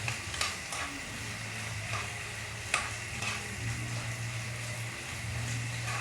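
Food is stirred in a hot pan while cooking a budget home meal; close scraping strokes of the spoon come at intervals over a constant sizzle of frying, and no one speaks.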